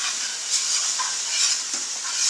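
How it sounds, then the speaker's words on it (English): Crushed tomato stirred into browned tamale pie filling in a pan, a close, continuous hiss of sizzling with soft scraping swirls of a spoon, heard alone. "And then I am going to simply mix it all up."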